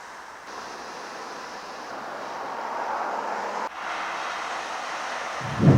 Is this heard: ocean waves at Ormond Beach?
yes